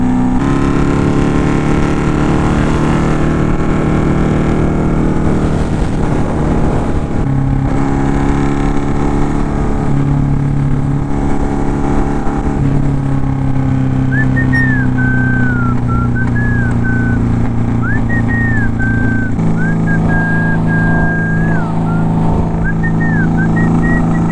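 Honda Magna motorcycle being ridden, its engine droning loud and continuous with shifting revs and gear changes, heavy wind rush over the top and no talk.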